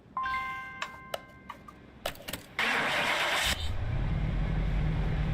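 A car engine in Car Mechanic Simulator 2021 cranks and catches on a dyno, with a series of sharp clicks and ticks at first, then a loud steady roar that settles into a lower, rumbling run.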